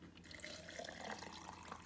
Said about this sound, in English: let's tip that vodka in there